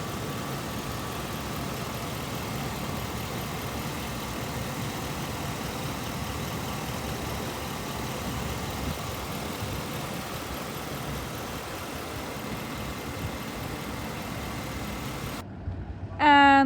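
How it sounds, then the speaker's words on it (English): A 2016 GMC Savana 3500 box truck with a Vortec 6-liter V8 idles at a steady low rumble, the sound constant and moderately quiet, with a brief burst of other sound at the very end. "please take a quick look at our Vortec 6-liter V8 engine"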